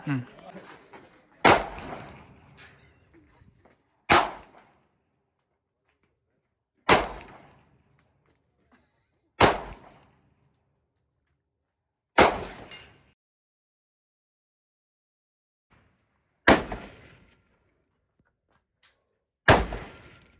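Single gunshots at an outdoor shooting range in Osh, Kyrgyzstan: about eight loud, sharp cracks spaced a few seconds apart, each fading quickly into near silence, with brief speech at the start.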